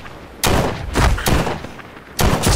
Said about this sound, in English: How are you managing to shoot me? How are you shooting me, huh?